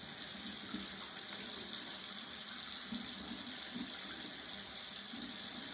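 Soapy hands rinsed under a running kitchen tap, a steady close hiss of flowing water with faint splashes as the hands move through the stream.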